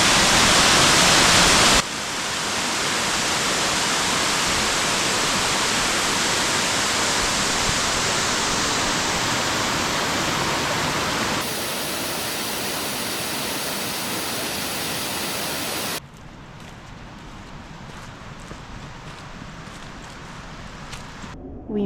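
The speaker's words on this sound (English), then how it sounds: "these waterfalls are going" Waterfalls on a hike at Ramapo Reservation in Mahwah, New Jersey, swollen after heavy rain, make a steady loud broadband rush that holds for most of the stretch, shifts in character partway through and drops to a softer, more distant wash near the end.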